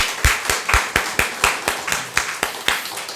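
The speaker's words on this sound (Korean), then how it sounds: "우리 감사와 경배의 박수로 하나님께 영광을 돌려드리겠습니다" A congregation at a Sunday worship service claps together in a steady, even rhythm, sharp hand claps landing roughly four times a second, close and fairly loud.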